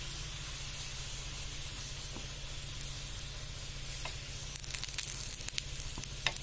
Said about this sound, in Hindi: हमने इसको पलट दिया है, दूसरी साइड में भी हम तेल लगा देते हैं